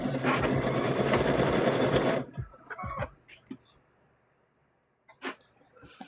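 A sewing machine stitches quilt squares rapidly for about two seconds, then stops; faint handling clicks and a soft thump follow in near quiet.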